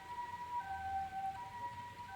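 An ambulance siren in the video game Corpse Party: Book of Shadows wails faintly at a distance, its wavering tone rising and falling steadily in a quiet setting.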